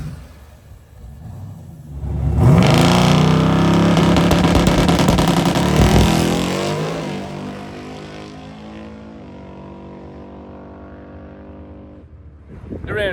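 A street car that sat in a garage for about five years launches on a drag strip, its engine swelling into a loud, rising roar that peaks and then recedes into a fading drone as it runs away.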